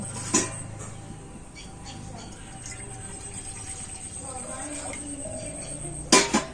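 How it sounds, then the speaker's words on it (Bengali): A frying pan is set down on a stove burner, with a sharp metallic clunk near the start and another pair of clanks at the end, while someone talks over a quiet background hum. "আর এবারে উনুনটা ছেলে উনানে একটা আমি ফ্রাই প্যান বসিয়ে দিচ্ছি আর এই ফ্রাই প্যানের মধ্যে আমি জল দিয়ে দেব"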